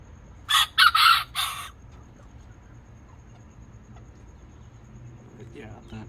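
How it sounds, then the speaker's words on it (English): A miniature rooster gives one short, fairly soft crow in a few quick bursts near the start, then only quiet background hum and faint stray sounds follow. "as you can tell, his crow isn't that loud"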